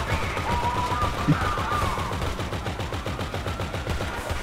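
Sustained rapid automatic gunfire rattles through a GTA Online heist, a steady dense stream of loud shots with a brief tonal whine running behind it.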